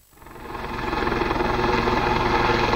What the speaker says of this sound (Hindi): धीरू भाई अंबानी के पुश्तैनी गांव चोरवाड़ में एक हेलीकॉप्टर उतरता है।